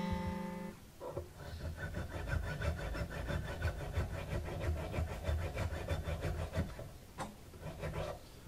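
A file rasps a string slot into the bone nut of a Martin HD-28 guitar in quick, regular back-and-forth strokes, close and steady for several seconds after a short tonal sound at the start, with no talk.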